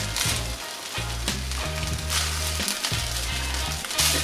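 Fried rice darkened with dark soy sauce sizzles loudly and steadily in a hot pan, a dense crackling hiss with rhythmic stirring scrapes and low clatter throughout.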